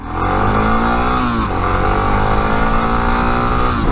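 A big-bore single-cylinder dual-sport motorcycle lugging in fourth gear at about 70, with a steady, loud, low engine drone that dips slightly partway through and shows no clear revving, heard alone.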